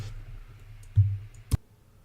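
Two quiet, sharp computer mouse clicks about half a second apart in an otherwise hushed room with a low hum.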